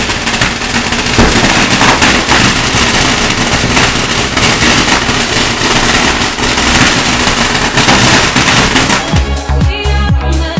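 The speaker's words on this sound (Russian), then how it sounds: "Этот порох забрасывается вот туда, внутрь. И получается бум-бум." Gunpowder firecrackers going off in Phuket, Thailand: a loud, dense, nonstop crackle of rapid bangs that fades toward the end as other steady sounds come through.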